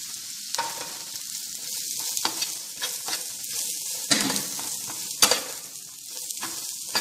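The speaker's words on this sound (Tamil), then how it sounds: "இது நல்லா ஃப்ரை ஆகட்டும்" Manila tamarind fruit frying with chicken masala spices in a pan, a continuous close hiss of sizzling broken by scraping stirs and occasional clinks of a utensil.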